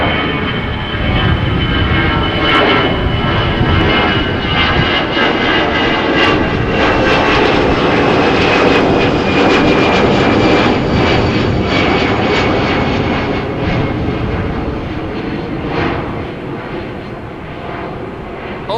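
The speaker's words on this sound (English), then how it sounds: "Old school A320 to Bilbao from Vueling." A Vueling Airbus A320 roars loudly and continuously at windy Amsterdam Schiphol Airport, a broad jet-engine rumble that swells and then slowly fades near the end.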